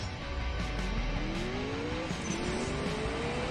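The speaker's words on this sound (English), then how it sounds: "I hit nitrous on the wrong gear" Car engine rising in pitch through a gear in the mobile drag racing game CSR2, a steady synthetic drone sweeping upward twice as the nitrous boost kicks in, loud and continuous with no talk.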